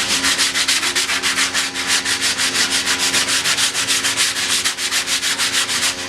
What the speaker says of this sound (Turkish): şimdi öbür tarafını zımparalayacağız